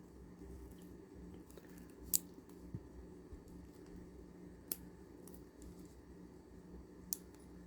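Scissors snip through the string of a handmade kandi bead choker, giving three quick, quiet cuts spaced a few seconds apart over a soft background hush, with no talking.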